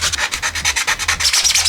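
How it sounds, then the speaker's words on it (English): Sandpaper rubs rapidly back and forth over 3D printed parts of a boat hull, a quick rhythmic scratching with about a dozen close, even strokes and no voices. "so we'll start the sanding phase."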